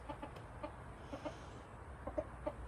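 A rooster gives soft, repeated clucks in short bursts, faint and a little distant, heard on a hot afternoon at a cabin with steady outdoor noise underneath.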